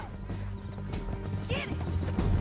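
Horse hooves clip-clop steadily in Red Dead Redemption 2 while a horse neighs once midway, all close and moderately loud with a low musical drone underneath.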